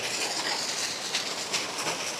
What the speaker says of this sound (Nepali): तपाईँहरूलाई म मिनी झरना पनि देखाइदिन्छु